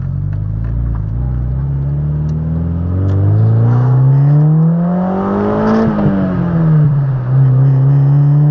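A car fitted with a new FRZR exhaust drives past close by, its engine note rising as it accelerates, settling, then revving up again through a shift in a loud, sustained drone.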